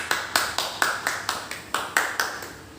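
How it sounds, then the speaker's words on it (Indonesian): Students in an economics classroom clap in a steady rhythm, about eleven sharp, evenly spaced claps in close unison, nearby and fairly loud, with no talking. "Bagus, tepuk tangan."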